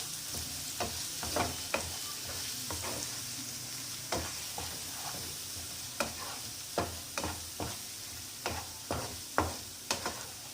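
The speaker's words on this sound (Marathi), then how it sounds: "आणि याला छान परतून घ्यायचं." Cumin and coriander powder frying in a pan, a soft continuous sizzle broken by regular sharp scrapes and taps of a spoon stirring close up.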